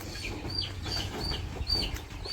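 Chickens at a village poultry farm give short clucks and bird-like calls, several overlapping at moderate distance over a low background rumble, with no speech.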